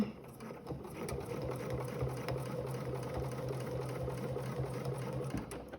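A sewing machine stitches a quilted placemat, a steady fast mechanical whirr with rapid needle chatter running continuously and close, ending abruptly.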